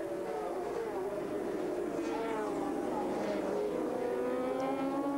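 A Honda endurance racing motorcycle at the 1997 Bol d'Or roars steadily down the straight, its exhaust note rising and shifting throughout, heard under continuous race commentary.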